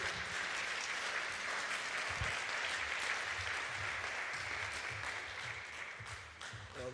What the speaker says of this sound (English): Please give a round of applause to Dr. Aubrey de Grey.